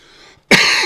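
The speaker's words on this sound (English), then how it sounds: "Sorry to cough in y'all's ear." A man gives a single loud, close cough that bursts out after a brief quiet pause.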